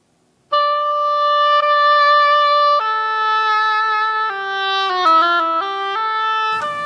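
An oboe played with its reed attached gives a clear solo line of sustained, reedy notes that step downward and then wander through a few quicker pitches.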